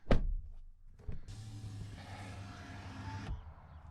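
Power window motor whirring steadily for about two seconds as a rear window lowers inside a 2024 GWM Haval Jolion Hybrid, preceded by a short thud, close and clear with no talk.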